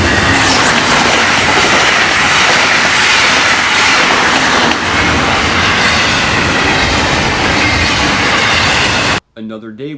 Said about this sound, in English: Would be a northbound Brightline at this location.